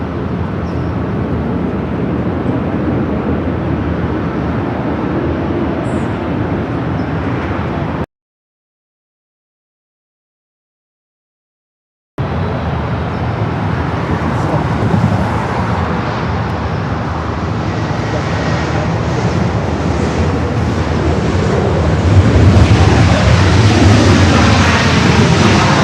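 A Southwest airliner in special livery lands on runway 24 right at LAX with a continuous loud, broad roar. A brief gap of silence breaks it, and the roar swells again toward the end.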